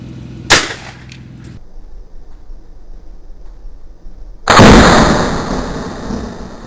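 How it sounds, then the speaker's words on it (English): A homemade hydrogen cannon fires twice: a sharp, short bang, then after a pause a much louder, booming blast with a long fading roar, outdoors. "So, there you go, my hydrogen cannon."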